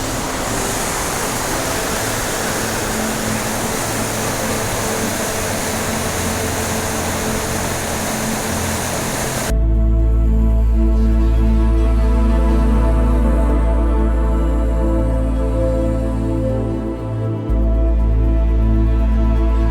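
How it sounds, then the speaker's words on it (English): Water pouring down a rock edge into a main river, a dense, loud, steady rushing roar. Partway through it gives way to a deeper, low rumbling wash that continues to the end. "There's a lot of water that's flowing down this sort of rock edge here down into the main river."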